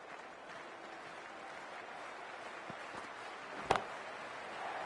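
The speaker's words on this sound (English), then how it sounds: "The crowd, it's deafening at the moment." A stadium crowd in the cricket game Cricket 24 roars as a steady, distant wash of cheering and applause, fairly faint, with a single sharp knock near the end.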